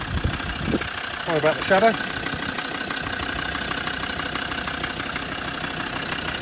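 A Land Rover Defender 90 TD5 XS Station Wagon diesel engine with 112,000 miles idles steadily nearby, a smooth continuous hum heard close under the bonnet, with a brief spoken remark near the start.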